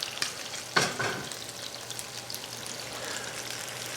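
Thick skin-on black grouper fillets searing in a pan, a soft continuous sizzle with a brief louder crackle near the start, fairly quiet and close.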